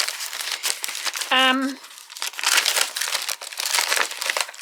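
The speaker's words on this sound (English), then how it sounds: "I've got various bits of brown wrapping paper, including some printed wrapping paper" Brown wrapping paper, some of it printed, crinkled and handled up close in repeated rustling bursts, with a brief tonal squeak partway through.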